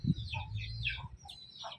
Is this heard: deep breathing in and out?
no